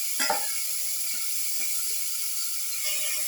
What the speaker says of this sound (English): Now put in the marinated beef or veal pieces